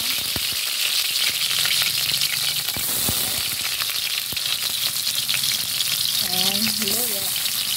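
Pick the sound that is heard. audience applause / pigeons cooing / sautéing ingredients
sautéing ingredients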